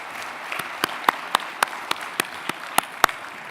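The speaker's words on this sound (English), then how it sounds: "Round of applause." Applause from an energy-industry conference audience after a panel, a soft wash of clapping with sharp individual claps standing out at a fairly steady pace, moderately quiet and fading as it goes.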